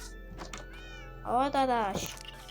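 A cat in the Minecraft video game gives one loud, drawn-out meow at a cat café build, preceded by softer game sounds over a low hum.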